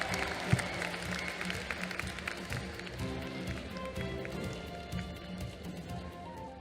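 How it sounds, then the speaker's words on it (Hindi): Applause from a crowd at an IIFI Goa gala welcoming Ajay Devgn to the stage, steady clapping mixed with music and some talking, with a sharp thump early on. "जोरदार तालियां हो जाए अजय देवगन सर के लिए"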